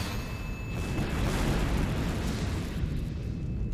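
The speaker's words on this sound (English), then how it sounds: "In the act of its own destruction, the miraculous gemstone erases all shadows." A huge sustained roar of a magical gemstone exploding and filling a cavern with light in the Fate/Stay Night: Heaven's Feel game, a dense continuous rumble that stays loud for several seconds without a break.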